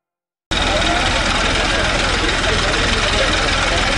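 A tractor engine runs loud and close, kicking in abruptly after a short silence and then holding a steady, unbroken rumble with a rough broadband roar.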